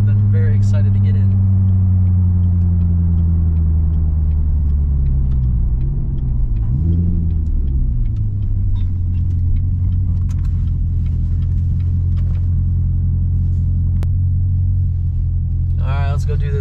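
A 2020 Ford Mustang GT with a 10-speed rumbles deeply and steadily, its pitch dipping and swelling briefly midway before settling back into a constant idle.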